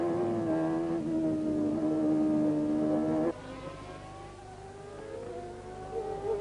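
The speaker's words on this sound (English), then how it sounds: "Here's Berger's McLaren coming past to take 4th place behind Patrese." Berger's McLaren Formula One car races past in 1991, its high engine whine holding steady, then dropping sharply in pitch as it passes and fading away.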